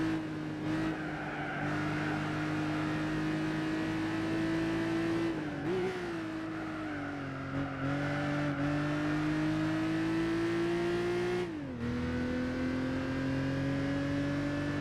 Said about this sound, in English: This is the Celica Supra.